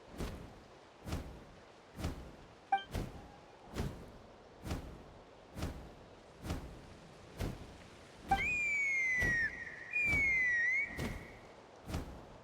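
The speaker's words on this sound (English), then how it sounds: "That sounded like a whistle." Two bright, sliding whistle tones in Genshin Impact ring out over a steady rhythmic thumping pattern, each whistle about a second long with a wavering pitch.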